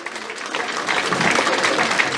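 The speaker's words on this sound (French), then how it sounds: "on peut l'applaudir." A crowd at a Région Île-de-France prize ceremony for a Christmas song contest claps for a prize winner, with steady, fairly close applause that swells slightly and keeps going throughout.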